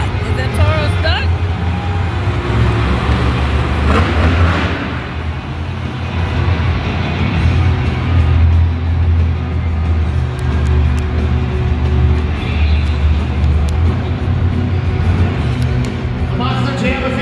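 A steady low engine rumble from the El Toro Loco monster truck at a Monster Jam show in Las Vegas fills the whole stretch, with crowd noise and voices over it.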